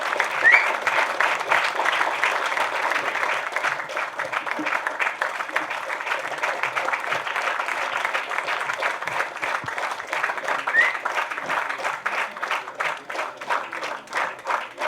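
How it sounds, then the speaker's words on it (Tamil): Sustained audience applause at an award ceremony honouring social workers, a steady, dense clapping that holds for the full stretch at a fairly constant level without a break. "கைத்தட்டு பத்தாது"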